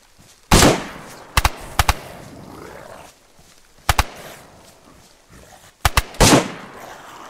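Gunfire in the video game DayZ: several sharp, loud shots in scattered bursts, some single and some in quick doubles, with a roar-like blast trailing off between them and no talk.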